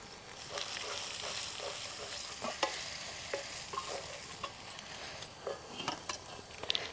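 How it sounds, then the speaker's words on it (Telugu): Ginger garlic paste and turmeric fry in a pan and are stirred with a spoon. A soft, steady sizzle runs throughout, with light scraping and tapping against the pan up close. "మళ్ళా ఇది కూడా పచ్చివాసన పోయేంత వరకు ఇట్లా కలబెట్టుకోవాలి."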